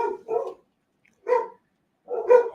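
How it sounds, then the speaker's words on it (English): Dogs bark in three separate bursts, a quick double bark, a single bark, then another doubled bark, close by with silence in between. "Y'all hear the dogs?"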